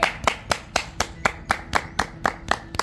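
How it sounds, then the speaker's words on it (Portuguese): About a dozen slow, evenly spaced hand claps ring out close and clear, a steady unhurried rhythm with no talking over it. "Uma salva de palmas, né, mãe?"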